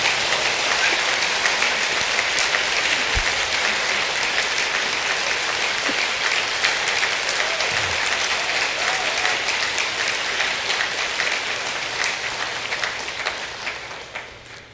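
A large audience at a Buddhist dharma teaching keeps up loud, dense applause for a long stretch, an even roar of many hands that slowly fades away at the close.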